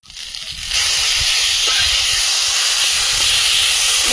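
Loud, steady hiss of spice paste hitting a hot pan with frying potatoes and soybean chunks, a strong sizzle that jumps up after a brief quieter start and holds to the end.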